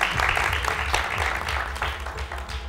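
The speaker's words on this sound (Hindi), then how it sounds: "आप तालियां बजाइए" A studio audience on a Pakistani morning TV show applauds a guest being called up, with steady dense clapping under a low background hum throughout.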